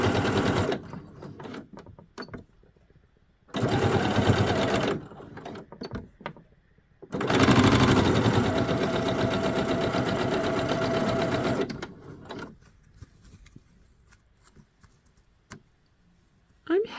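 A sewing machine stitching a zipper runs in loud, steady bursts of motor whir and needle clatter, stopping and starting several times with quiet gaps between runs.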